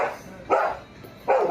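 A dog barks during a heated confrontation with employees, giving three short, loud, fairly close barks spaced out over a second and a half, with people arguing around it.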